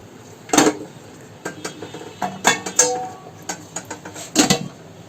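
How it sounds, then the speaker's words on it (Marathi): Metal idli steamer pots are lifted out with sharp clanks and scrapes, several separate knocks spread unevenly over the moment, close and clear against a quiet kitchen. "आता मी ते 2 भांडी पहिली काढते."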